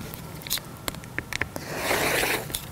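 Scissors or a blade cut through a fabric stripe in short, soft snips and a brief rasping slide, quiet and close with no talking.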